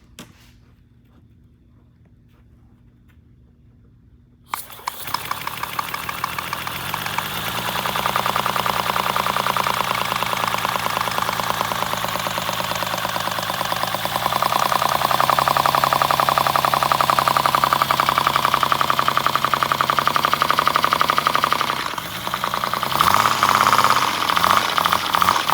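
A 3D printed flat six airplane engine model starts after a few seconds of near silence, rising into a loud, steady mechanical whine and drone that holds for about eighteen seconds, then wavers near the end.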